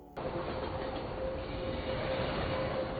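A passing train in an action film rolls by with a steady, dense rumble of wheels on rails and a faint sustained squeal, even and continuous from start to end.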